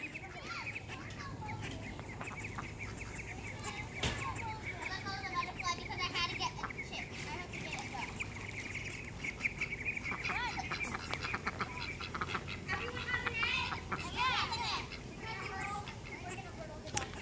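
Ducks and ducklings at a pond quack repeatedly near and far, with honking calls scattered throughout as people talk over them.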